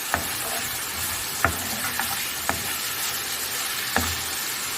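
Fried chicken sizzling in a pan as garam masala is stirred in, a steady loud sizzle with a few sharp spatula scrapes and taps spaced through it, close and without talk.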